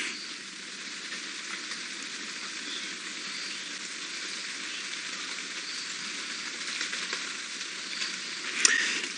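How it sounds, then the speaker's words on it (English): Rain patters steadily on an open safari game-drive vehicle in the bush, a dense, even hiss of drops close by with a brief sharper tap near the end. "And it seems like the rain is about to start again. I can hear the pitter-patter on our little Flintstone mobile."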